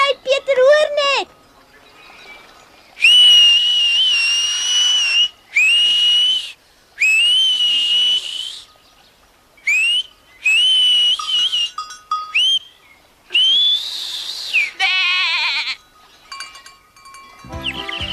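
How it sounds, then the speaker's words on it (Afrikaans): A person whistles at close range in a long series of shrill tonal bursts, some rising and some falling, with short gaps between them, out in a mountain pasture where goats are herded. "Ek kan net so goed soos jy fluit"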